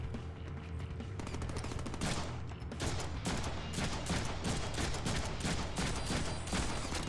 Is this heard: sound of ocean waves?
no